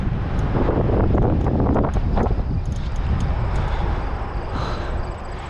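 Strong wind buffets the microphone on a motorcycle ride along a highway in a steady, heavy roar throughout, with no voices.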